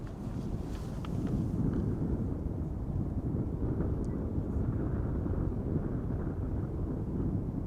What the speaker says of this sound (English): next up, KLM flight 601, outbound to LAX, 787-10 Dreamliner